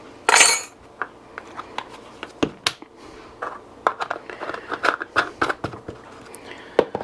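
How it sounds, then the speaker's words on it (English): Utensil clinks and scrapes against a bowl while a stir-fry marinade and sauce of soy-type seasonings, five spice and other powders is mixed, a brief rattle first, then uneven taps and knocks close by with no talking. "So we'll go ahead and give this a mix."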